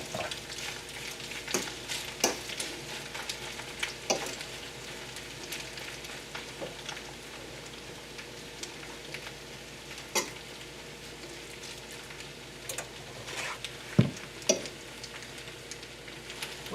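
A spaghetti frittata frying in a pan, giving off a steady soft sizzle with scattered crackles and pops over about seventeen seconds, close and continuous, no voices.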